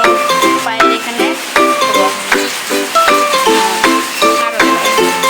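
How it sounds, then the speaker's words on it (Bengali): Hot oil spatters and sizzles in a frying pan, crackling steadily under a repeating pattern of clinks and stirring knocks, loud and close. "এই যে এখান থেকে ছিটে আসছে তেল"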